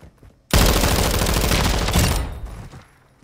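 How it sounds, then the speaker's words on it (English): A loud, sudden burst of automatic gunfire in the shooter game Call of Duty Modern Warfare 3 erupts after a brief pause and rattles on for nearly two seconds before fading into echoing tail. "You are taking effective fire."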